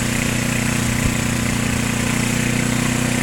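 A large John Deere snowblower engine runs close by in a snowstorm, giving a steady, loud mechanical drone with an even low hum and no change in pace.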